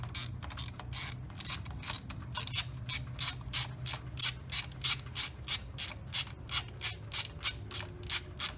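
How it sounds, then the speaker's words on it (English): A ratchet turning a 16mm socket on an extension to loosen spark plugs during an engine tune-up, clicking in a steady run of short strokes that grow regular and pronounced toward the end, close and clear with no talk. "So now he's got a 16mm socket and an extension."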